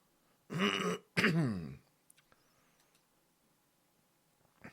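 Two rough coughs with throat clearing in quick succession, close and fairly loud, then a few faint clicks in near silence.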